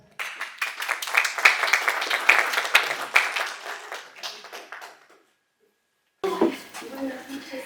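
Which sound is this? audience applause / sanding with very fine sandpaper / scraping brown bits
audience applause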